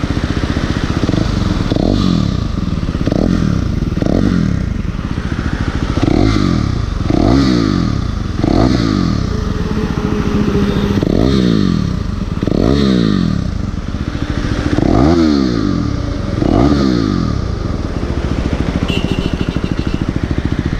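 A 2017 KTM Duke 390 motorcycle's stock exhaust revs over and over in rhythmic bursts, loud and close, each rise and fall clearly separated, with no talking.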